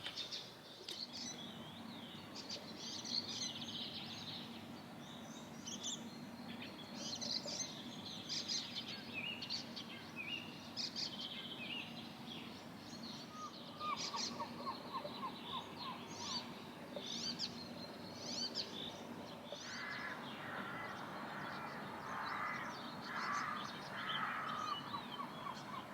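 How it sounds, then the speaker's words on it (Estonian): Birds sing in a steady outdoor chorus, with high chirps and tweets overlapping and a run of repeated, clearer calls in the second half, all at moderate distance. "Linnud laulavad."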